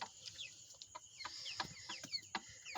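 Several desi Kayla chickens, about 2 kg each, cluck and chirp softly nearby in short, irregular calls, with faint rustling in between.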